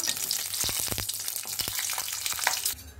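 Green chillies hit hot oil with onions already in the pan for gongura pachadi, sizzling loudly and crackling, with a few sharp utensil clacks from stirring before the sizzle drops off at the end.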